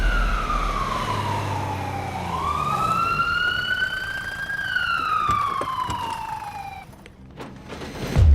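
An ambulance siren wails loudly and close by in steady rising and falling sweeps, with a brief electronic yelp near the end, over a constant background rumble of traffic.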